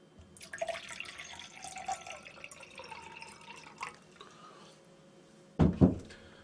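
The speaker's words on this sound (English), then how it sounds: "Next, fill the glass half full" Tap water runs into a clear glass being filled halfway, a gentle trickle with small splashes, then ending in a sudden louder burst of pouring near the close.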